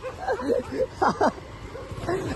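A dog on a road gives a few close yips and barks in quick bursts, with people talking around it.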